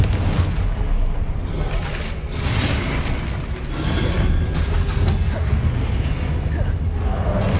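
Confringo fire-blast spells detonating in combat in Hogwarts Legacy, heavy booming bursts and rumbling impacts over continuous game noise, dense and loud throughout.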